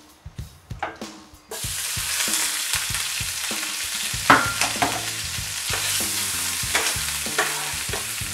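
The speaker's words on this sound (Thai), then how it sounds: "ราจะให้เบคอนมันคายน้ำมันออกมาครับ" Bacon sizzles over low heat in a pan with mushrooms as its fat renders. A few utensil taps come first, then a sudden, steady loud sizzle breaks out, with stirring scrapes and clicks through it. No one speaks.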